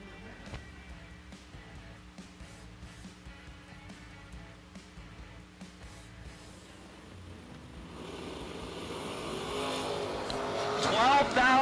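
S10 pickup and Fox Body Mustang drag racing at a strip, engines droning and rising into a loud roar as the cars launch, heard at a distance under a track announcer's talk.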